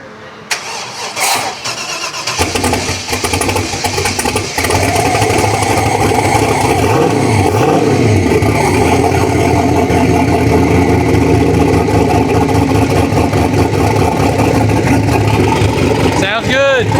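A hot rod engine at a cruise-in starts up and settles into a loud, throaty idle with a deep low rumble that stays steady to the end. A short higher rev comes near the end.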